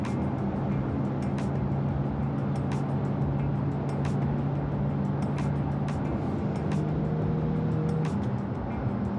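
A 2023 Porsche Panamera 4S E-Hybrid pulls hard under acceleration, heard as a steady, droning engine and road roar from inside the car, loud and continuous throughout with no talking.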